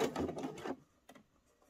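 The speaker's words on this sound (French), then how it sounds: "Et je vais piquer tout près du bord, à 1 mm, 1 mm et demi, pour bien maintenir en place la bande d'encolure." A sewing machine stitches close to the edge of a folded knit neckband in a dense mechanical run lasting under a second, then stops, leaving a couple of faint clicks and quiet handling.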